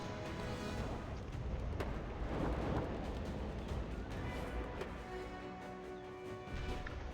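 Cannons fire in the World War Armies battle game, with repeated booming blasts and crashing impacts over a dense, continuous roar of battle.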